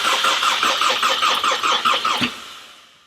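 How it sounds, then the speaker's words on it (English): Close and loud, a VW Jetta's starter cranks sluggishly on a weak battery in an even repeating churn that never catches, stopping with a short clunk and then fading into quiet. "The wiring may not be pretty, but it's good enough to fire up the car."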